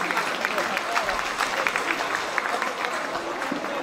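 A crowd claps in a dense, continuous patter of applause, steady and fairly loud throughout, with no one speaking over it.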